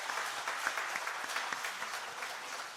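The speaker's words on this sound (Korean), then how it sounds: "다시 한번 크게 격려와 축복의 박수 해주시기 바랍니다" A church congregation applauding at a 70th-anniversary ordination and retirement service, steady clapping from many hands filling the room for a few seconds.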